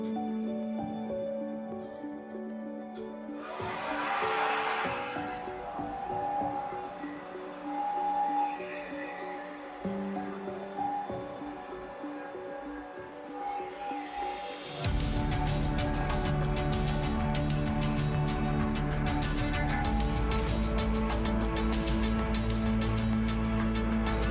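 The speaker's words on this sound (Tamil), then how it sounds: "அண்ட் வாங்க இப்போ ட்ரையர் வச்சு எப்படி செட் பண்ணலான்றது பார்க்கலாம்." A hair dryer used to set curly hair: after a stretch of background music, a loud, steady broadband whoosh switches on and blows continuously, close by.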